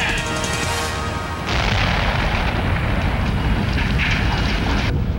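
A large film special-effects explosion at a pipeline sends up a wall of fire, with a deep, sustained roaring rumble that swells loudly and continues without pause.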